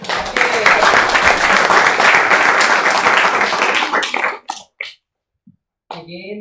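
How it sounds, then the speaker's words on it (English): Dense applause from a seminar audience at a guest lecture fills the room for about four seconds, then breaks off into a few last claps and silence before a voice begins speaking. "let's all give a round of applause to our speaker"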